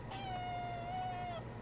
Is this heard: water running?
no